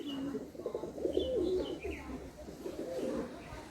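A female tournament flying pigeon coos close by in a repeated, rolling low warble over a few seconds, with faint chirps from other birds in the loft behind.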